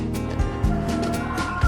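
Backyard chickens cluck and gobble-like calls in a steady, close flock chorus, with several overlapping bird voices and a few low thumps.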